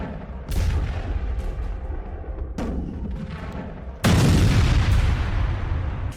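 Heavy booms from a US missile strike on a Venezuelan boat at sea: two sharp blasts near the start and middle, then a louder, sustained explosion roaring on to the end, no speech.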